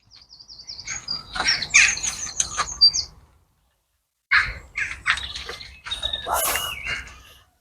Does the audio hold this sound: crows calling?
yes